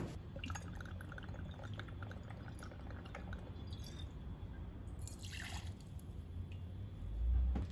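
White rum is poured into an ice-filled cocktail shaker for a daiquiri, giving a soft, faint trickle and drip of liquid that runs steadily and ends in a brief low thump, with no talking.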